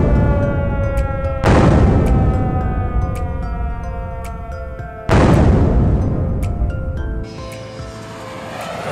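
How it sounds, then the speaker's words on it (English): Exhibit sound effects at Coventry Transport Museum: two heavy explosions of buildings blasted to rubble, each a sudden loud boom that decays over several seconds, with a siren's sustained tones ringing underneath. "buildings being blasted to rubble."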